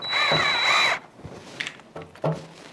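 A twist drill bores a hole in a fiberglass side skirt on a Celica GT-S wide-body kit, one short close whining burst followed by scattered clicks and handling knocks.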